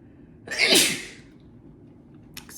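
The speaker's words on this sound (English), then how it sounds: "I need to sneeze." A woman lets out one sharp, close sneeze with a quick inhale and burst that fades, against a quiet indoor background.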